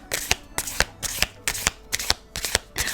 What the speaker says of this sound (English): It's taking so long in between the shuffling for the cards to come out.